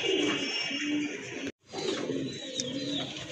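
A pair of sky-blue Madrasi Golla pigeons coos softly and steadily, with a brief full dropout midway before the low cooing resumes.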